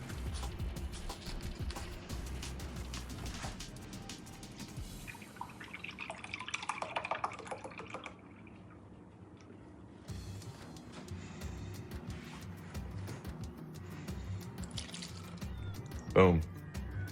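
Half and half pours into a bowl of butter, a soft liquid trickle close by, with people talking throughout and a sharp clink near the end.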